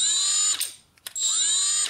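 Milwaukee M12 cordless ratchet running in two bursts of steady high-pitched motor whine with a brief pause between, close and loud, no talk.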